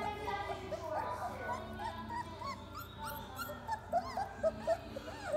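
Young puppies about 24 days old whimpering and yipping, with a cluster of thin, high, rising whines that grow louder toward the end, close by over a low background hum while a person speaks softly.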